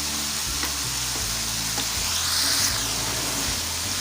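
Chicken fries in a pan as its released liquid cooks off, giving a loud, steady sizzle with occasional stirring scrapes and bubbling pops, up close and without talk.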